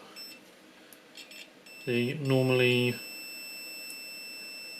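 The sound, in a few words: multimeter continuity test beep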